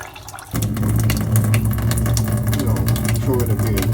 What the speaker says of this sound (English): Put in new fresh water.